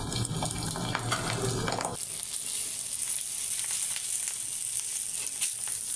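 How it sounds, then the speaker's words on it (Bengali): Tilapia fish fry in hot mustard oil on a small tawa, a loud, steady close sizzle after a brief clatter as the pieces go in. "দুইটা করে ভেজে নিচ্ছি। দিয়ে দিলাম দুইটা।"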